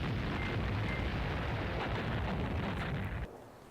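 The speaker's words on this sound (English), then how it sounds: "Oh, there it is. Okay, there's our airstrike." Airstrike explosions in the war strategy game Command Ops 2 make a continuous loud, dense roar of rumbling blasts that holds steady for about three seconds and then cuts off sharply into quieter background.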